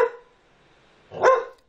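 A pet dog at a house gives two short, sharp barks about a second apart, fairly close and clear against a quiet background.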